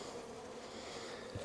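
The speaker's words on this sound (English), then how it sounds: "So we got bees up in the upper area here coming out the vent hole." Honeybees buzz steadily at the vent hole of a hive during a winter inspection, a close, continuous hum with no voices over it.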